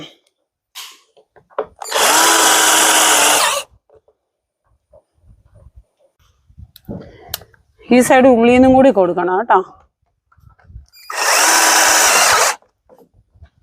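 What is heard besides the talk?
power drill driving screws to fix a gutter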